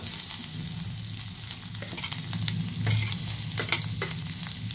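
Mustard seeds and chana dal fry in hot oil for a paniyaram batter, a steady close sizzle with crackling pops and a few sharp scraping stirs, no voices.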